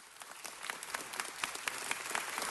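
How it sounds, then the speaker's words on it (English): Scattered, fairly light applause in a city council chamber, individual claps audible in a moderate-sized room, steady and somewhat distant. "let's give him a big round of applause."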